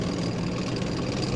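A tank engine in a children's vehicle learning game, heard as a steady low rumbling drone that holds evenly for the whole short stretch without any voices.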